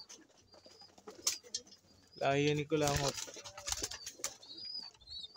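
A pigeon at a racing pigeon loft gives a short, close bout of deep cooing in the middle, with someone talking before and after it.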